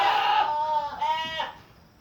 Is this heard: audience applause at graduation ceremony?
no